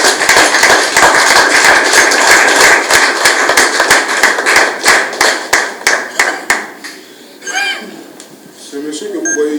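An audience at a community gathering in Matete, DR Congo, claps in a steady rhythm that thins out and fades. A voice then starts speaking.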